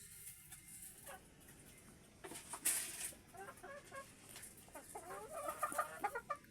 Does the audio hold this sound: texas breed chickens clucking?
yes